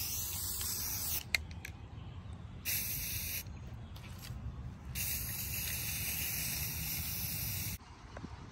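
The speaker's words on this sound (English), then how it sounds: "I can just spray paint these on the arbor." Spray paint with primer hissing from an aerosol can onto a black garden arbor outdoors, several long sustained bursts with short pauses between, close and fairly loud.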